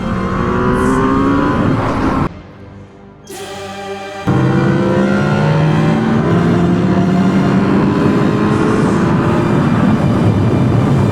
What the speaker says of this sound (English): That's full throttle. There he goes. There goes the Busa boy.